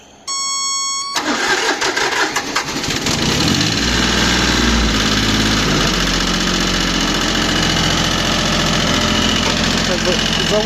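A Mitsubishi MT1601 Japanese mini tractor with a 16-horsepower engine cranks over after a short electronic beeping tone. It catches quickly and settles into a loud, steady, throbbing diesel idle that holds close and constant throughout.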